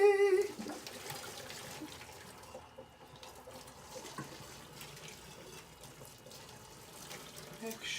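Liquid is poured into a kitchen sink while cooking, giving a faint, steady running-water wash that continues with no talking.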